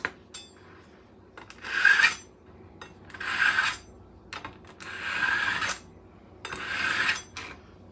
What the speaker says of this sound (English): So I'm going to take our knife sharpener and sharpen the knife.